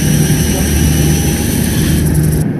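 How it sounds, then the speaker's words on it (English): A helicopter in the video game Fleeing the Complex produces a loud, steady engine and rotor drone that runs unbroken with no talking, then cuts off sharply at the end. "Helicopter."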